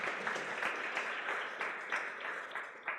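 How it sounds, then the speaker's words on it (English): A fairly quiet, even round of clapping from the audience at a research governance forum's opening plenary, with a few louder individual claps standing out. "A quick hand of applause."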